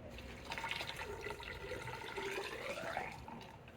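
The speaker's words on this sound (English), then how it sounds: "just pop the cover and then add the washer fluid of your choice" Washer fluid pours into the reservoir of a 2012-2016 Subaru Impreza, a continuous gurgling, trickling fill that rises and shifts in pitch, fairly quiet and heard alone.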